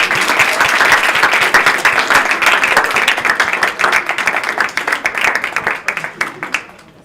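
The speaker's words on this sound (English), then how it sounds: "We would like to just give a round of applause to our panelists." An audience claps for student panelists at a school discussion on gun violence, steady dense applause that thins out into scattered claps before ending.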